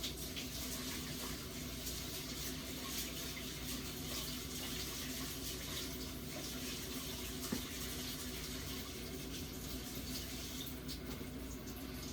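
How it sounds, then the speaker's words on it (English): Tap water running steadily while rice is washed, a continuous soft splashing hiss at low volume with faint irregular clatter in the background. "we are cleaning our rice"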